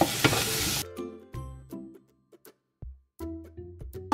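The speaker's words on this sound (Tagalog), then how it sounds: "Is, sama na natin yung ating bawang at sibuyas. Sabay na. And then yun na. Haluin lang natin." Garlic and onion are stirred as they sauté in a pan: a loud initial sizzle burst settles into scattered scraping and clinking of the utensil against the pan, close up and without speech.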